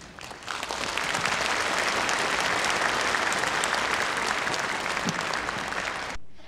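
A concert audience at an Edmonton Chinese community celebration claps loudly and steadily for several seconds to welcome six Chinese folk instrument players onto the stage, with no voices over it.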